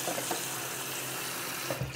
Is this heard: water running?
yes